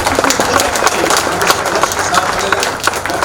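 A crowd at a Congress party memorial rally claps loudly and continuously, a dense wash of applause that fills the whole short stretch.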